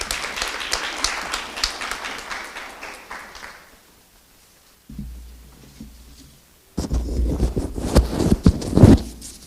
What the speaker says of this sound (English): us give our keynote speaker, May Hazelton, a round of applause